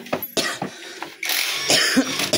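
A man coughs in a rapid series of harsh, close bursts, followed by a rougher, sustained throat-clearing cough.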